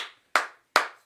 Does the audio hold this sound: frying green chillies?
no